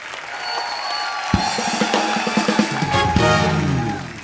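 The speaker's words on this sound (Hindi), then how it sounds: "जोरदार तालियां इलियाना के लिए" A studio audience on a television comedy talk show applauds to welcome actress Ileana D'Cruz, with dense, loud clapping and crowd noise mixed with music that swells toward the end.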